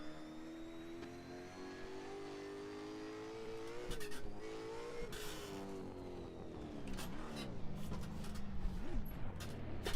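Car lapping a track on worn tyres, its engine revving up and down through corners and braking zones with downshift blips, loud and close throughout, cockpit-level and without talking.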